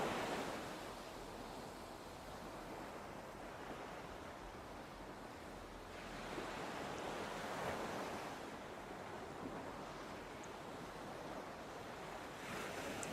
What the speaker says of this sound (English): Enjoying the sounds of the ocean.